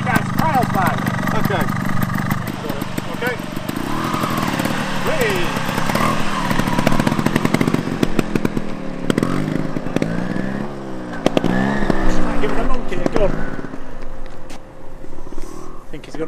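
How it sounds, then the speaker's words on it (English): A record-breaking trials motorcycle engine runs close by, revving and bouncing at idle in uneven bursts, with people talking over it throughout. "Right, you don't sit down, it's a trials bike."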